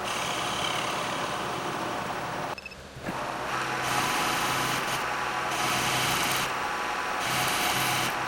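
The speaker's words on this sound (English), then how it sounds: "I'm first cutting the tube to its final length" Metal tube for a DIY pedal boat drivetrain being cut to length, a steady close grinding, rasping noise that continues almost throughout, with a brief dip in the middle and a low motor hum underneath.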